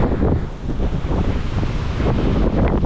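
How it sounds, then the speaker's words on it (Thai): Strong, gusty wind roaring steadily over the open ocean, carrying wave spray, with a broad rushing noise buffeting close to the microphone throughout. "น่าจะเป็นละอองคลื่นที่ลมพัดลมแรงมาก ลมแรงมากเนี่ย"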